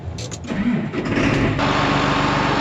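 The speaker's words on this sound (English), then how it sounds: "We'll just let that tractor warm up." A farm tractor engine cranks and catches, then settles into a loud, close, steady chugging idle as it warms up on a cold day before seeding oats and alfalfa.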